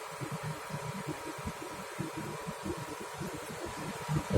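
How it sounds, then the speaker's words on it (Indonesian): An old car's engine idles smoothly while warming up, its exhaust giving off smoke and water, making a low, even, rhythmic pulsing with a faint steady hum, heard close and without talk. "mesin juga masih halus, kita dengarkan suaranya"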